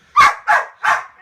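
A dog barks three times in quick succession inside a house under demolition, the short, loud, close barks evenly spaced about a third of a second apart.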